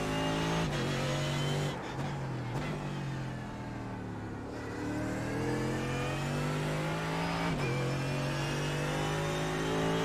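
Mercedes GT3 race car engine in the iRacing simulator at Imola, a loud sustained drone with steadily rising pitch through the gears and brief dips at shifts, continuous and alone without talk.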